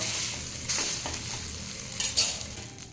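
Ridge gourd bread egg toast sizzling in oil in a pan over a medium flame, a steady bright fry broken by a few scraping stirs and light clinks of utensil on pan.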